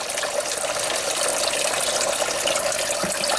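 Water pump running inside an aquaponics tank filled around perlite grow media, a constant close-up rush and hiss of moving water with a steady hum beneath, unbroken for the whole stretch.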